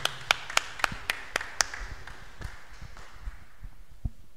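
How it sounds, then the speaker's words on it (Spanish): A church congregation claps after a Scripture reading: about seven sharp, evenly spaced claps ring out fairly close in a reverberant room, then give way to quieter scattered taps. "Aplauso a la palabra del Señor."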